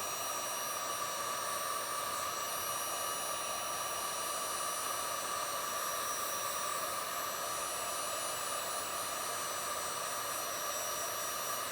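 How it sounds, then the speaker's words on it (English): A heat gun blows hot air onto heat shrink tubing on a guitar amp cord, a steady, even rushing hiss with a faint hum that holds unchanged throughout. "show you what I do with a heat gun here"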